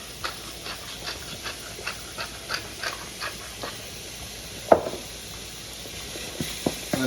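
Seasoned ground meat browns in a pan for lasagna, a steady close sizzle and hiss broken by frequent light spatula scrapes and taps as the meat is broken up and moved around.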